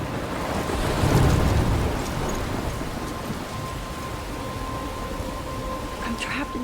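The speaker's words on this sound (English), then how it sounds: "I'm trapped in a storm?" A stormy scene in the video game Life is Strange, with steady rain hiss throughout and a deep thunder rumble that swells early and then fades into continuous downpour.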